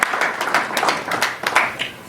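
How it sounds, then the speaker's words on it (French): A church congregation claps for Jesus during a service, with a handful of loud, uneven hand claps that come close together in a loose, lively rhythm for about two seconds. "Let's clap for Jesus."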